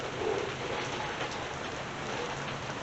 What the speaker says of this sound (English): This is just rain.